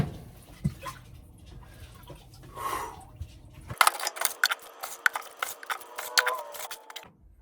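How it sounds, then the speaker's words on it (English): Water draining from a clogged washing machine into a container, with pouring and trickling at first, then sharper splashing and clattering that runs steadily for several seconds before stopping. "Now, we gotta drain this water out of here."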